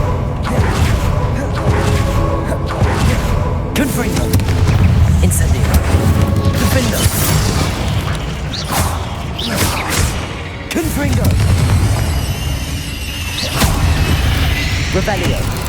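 Spell blasts from Confringo and Incendio burst repeatedly in the Hogwarts Legacy video game, heavy booming impacts and crackling fire rumbling close, with a voice talking over the spellcasting throughout.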